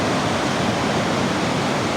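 The Apayao River, swollen by rain, rushes past in a steady, loud roar of strong current, a continuous broadband wash with no voices over it.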